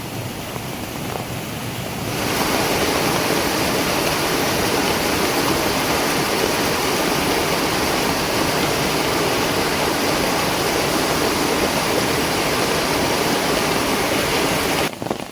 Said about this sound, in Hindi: इतनी बड़ी नदी, इतना बड़ा गधेरा हमारे घर के पास में से गुजर रहा है।